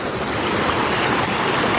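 Stream water rushes steadily and close on a forest trail near Ponmudi in Kerala as someone wades across, a continuous broadband wash with no voices.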